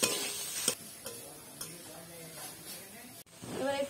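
Cabbage is stirred into momo filling in a hot pan, giving a soft continuous sizzle with occasional scraping clicks of the utensil, fairly quiet and close, ending in a louder rustle.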